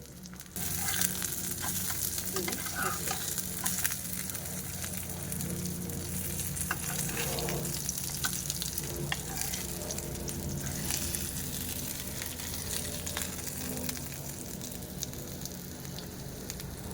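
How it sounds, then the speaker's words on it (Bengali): Pomfret coated in semolina and spices fries in a pan with a constant, close crackling sizzle that never lets up, and no voices over it. "এখানে এবার এটাও হালকা ভাজা হয়ে এসছে আমি এদিক ওদিক করে ভালো করে ভাজবো এটাকে"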